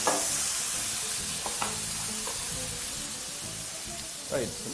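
Beans tossed and frying in a hot pan for coconut beans, giving a steady close sizzle with a few brief stirring scrapes and clatters throughout.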